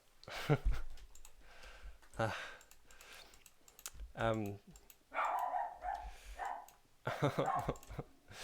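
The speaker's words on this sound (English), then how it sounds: "Dogs, please be quiet." Dogs bark in several sharp bursts at home during a livestream, loud and close, mixed with keyboard and mouse clicking, while someone talks between them.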